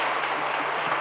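A church congregation applauds, a dense, even wash of clapping filling the whole moment.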